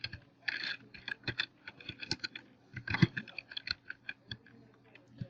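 Keys on a computer keyboard clatter in quick, irregular bursts of close clicks, with a few pauses between runs.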